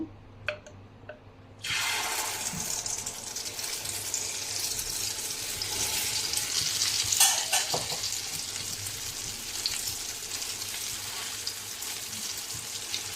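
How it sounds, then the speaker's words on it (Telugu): A thin masala egg omelette hits hot oil in a pan over a raised flame, bursting into a loud, steady sizzle after a brief quiet start and crackling on evenly without any talk. "ఆయిల్ వేసుకున్న తర్వాత ఫ్లేమ్ కొద్దిగా పెంచుకునేసి ఇంకో ఆమ్లెట్ని కూడా వేస్తున్నాను."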